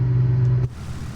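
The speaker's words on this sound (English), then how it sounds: "It's just a really loud aircraft, which is pretty interesting." Loud, steady drone of the piston engine on an SF.260 aircraft in Microsoft Flight Simulator, a strong low hum that abruptly drops to a quieter, rougher rumble partway through.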